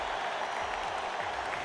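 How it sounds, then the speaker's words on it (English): Thunderous applause from a large crowd during a story scene in the video game Radiant Tale, a dense, steady wash of clapping that holds at an even level throughout. "Then, the clap of the beat eventually turned to thunderous applause."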